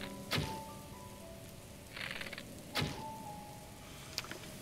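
Steady rain falls in the video game Zelda: Breath of the Wild, a constant hiss broken by a few sharp thuds and a brief brighter swish.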